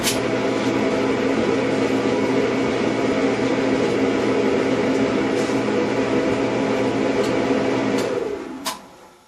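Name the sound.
Performa clothes dryer running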